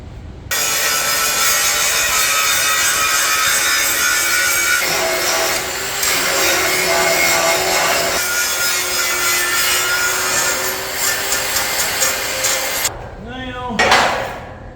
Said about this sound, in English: we're going to get the grinder out and bevel these edges inside and out